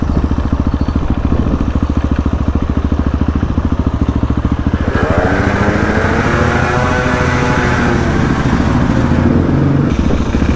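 Motorcycle riding along a wet, waterlogged dirt track, its engine loud and close with a steady rapid firing rhythm, joined midway by a rougher, brighter surge as it pushes through water.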